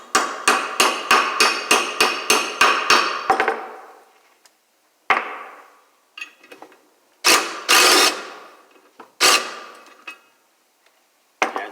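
A hammer strikes a bolt extractor onto a stripped bolt on a 1968 Mustang front spindle: a rapid run of about ten sharp metallic blows, then scattered single hits and clanks in a workshop.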